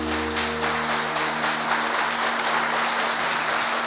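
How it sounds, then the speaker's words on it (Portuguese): A church congregation at a Portuguese-language service bursts into steady, sustained applause, a dense wash of clapping over low, held musical tones that continue underneath throughout. "Se você crê, aplauda Jesus."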